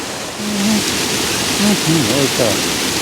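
Broadband rush of Bistrica creek, a clear mountain stream near Preddvor, flowing steadily and fairly close, with a voice speaking over the water.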